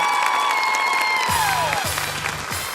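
A studio audience at a Ukrainian TV game show applauds and cheers for the women's team, a dense wash of clapping and whoops, with a brief musical sting layered over it.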